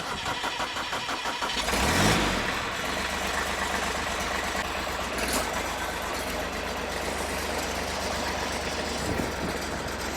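A Kentavr 244M mini tractor engine sputters to life with a brief surge, then settles into a steady, loud, rattling idle up close.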